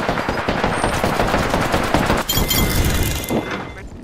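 Rapid automatic gunfire in Apex Legends at Kings Canyon, dense bursts of shots rattling continuously at close range, loud and unbroken for several seconds.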